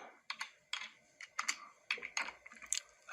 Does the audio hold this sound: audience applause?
no